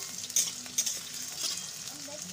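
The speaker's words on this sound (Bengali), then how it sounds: "তো আলুগুলো দিয়ে দিলাম, দিয়ে এবার ভেজে নেব।" Potatoes frying in oil in a pan, a continuous close sizzle with a few light stirring scrapes over it.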